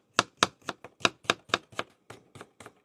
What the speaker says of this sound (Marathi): आपण आता कांदा कट करून घेऊ।